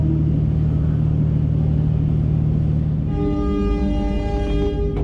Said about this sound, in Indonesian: kereta api Saunggalih diberangkatkan dari stasiun Bekasi